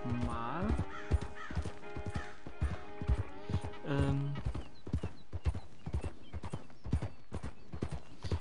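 Horse hooves clip-clopping in a steady galloping rhythm while riding in Red Dead Redemption, close and clear, with a brief whinny and bird caws early on and a voice talking over it.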